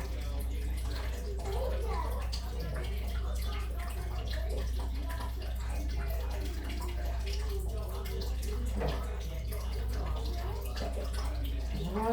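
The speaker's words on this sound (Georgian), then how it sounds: "ქვემოთ მოდის წყალი." Water flows steadily for several seconds as an even, unbroken rush with a low hum beneath, while a voice speaks quietly over it.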